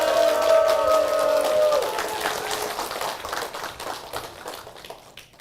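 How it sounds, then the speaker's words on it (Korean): Applause from a church audience welcoming a pastor and his wife on stage, broad steady clapping that is loud at first and gradually thins and fades, with some tonal background sound early on. "박수로 모시겠습니다."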